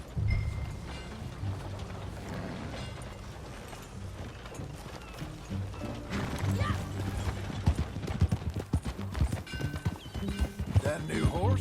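Horse hooves clip-clopping in Red Dead Redemption 2, rhythmic hoofbeats mixed with ambient game sounds and rustling, growing louder and more prominent in the second half.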